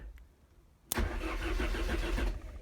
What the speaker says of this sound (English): So I'm going to try this live on the starter.